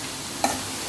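Tomatoes, peppercorns and spices sizzle in a pan for paneer kadai, a steady close frying hiss with one brief stir or scrape partway through.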